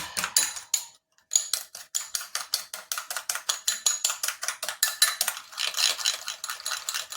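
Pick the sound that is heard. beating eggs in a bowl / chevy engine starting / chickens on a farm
beating eggs in a bowl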